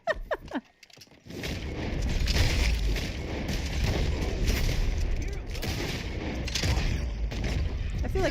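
Gunshots in the Western game Red Dead Online, a few sharp reports at the start and then heavy, booming gunfire that rolls on continuously at moderate loudness.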